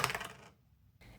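Dice roll across a table in a dinner-choosing dice game: a quick rattling clatter, a short pause, then a brief final tumble.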